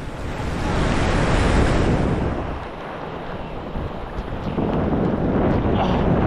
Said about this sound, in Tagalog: Lumalaki yung mga alon.